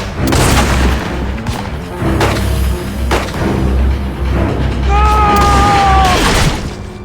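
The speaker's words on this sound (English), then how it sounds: "Someone shot him in the head." Gunfire from the TV drama Fargo plays loudly on a television, with heavy booming shots and crashes layered over a dramatic musical score, and viewers' voices are faint in the background.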